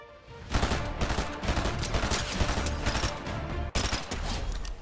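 Rapid video game gunfire in a ranked speedrun match, dense bursts of shots firing almost continuously with a brief gap near the end, loud and close.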